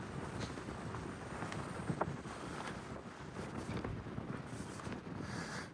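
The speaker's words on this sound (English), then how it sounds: "A little windy up here." Wind buffets a hilltop lookout above a river in Ōzu, Japan. Steady gusts rumble and roar against the microphone, with a few brief thumps and no speech.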